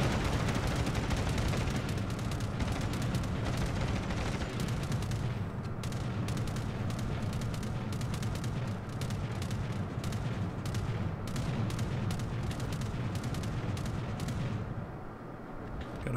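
An Italian tier-4 cruiser's anti-aircraft guns in World of Warships fire at an incoming air attack: dense, rapid bursts of flak crackle and thump continuously for most of the stretch, then trail off near the end.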